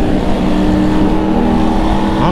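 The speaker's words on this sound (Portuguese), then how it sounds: "tem muita moto" Engines of a convoy of over 300 motorcycles drone and rev steadily up close, several motors layered into one continuous roar with no pause.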